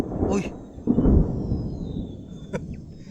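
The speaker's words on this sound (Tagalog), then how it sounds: "parang yung pati langit hindi sumasang-ayon sa akin kumukulog" Thunder rumbles low and heavy in a couple of swelling bursts, with a brief sharper crack near the end, loud and close against a quiet outdoor background.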